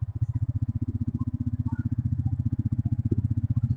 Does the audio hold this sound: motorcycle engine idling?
yes